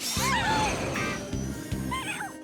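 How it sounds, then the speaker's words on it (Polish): Kittens in the PAW Patrol cartoon give two short, high meows, one near the start and another near the end, with cartoon voices and background sounds in between. "O, kociaki!"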